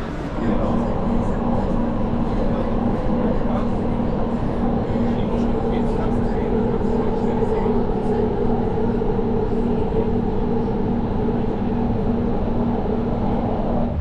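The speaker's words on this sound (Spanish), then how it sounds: "Vamos a tomar el subte." A constant low roar and hum of a Doha Metro car in Qatar underway fills the space, with muffled voices faintly underneath.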